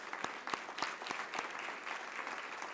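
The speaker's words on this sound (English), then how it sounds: "join me again in a round of applause of appreciation for our Board of Governors" An audience at an awards ceremony claps for the Board of Governors, a steady round of applause with sharp individual claps standing out over the dense, even patter throughout.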